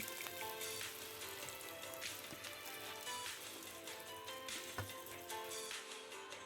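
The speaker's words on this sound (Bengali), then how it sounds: "ছোট ছোট টুকরো করে আলু কেটে নিয়েছি সেটাও আমি ভেজে নেব" Small chopped potato pieces fry in oil, a constant close sizzling crackle with scattered sharper pops, steady throughout and free of talking.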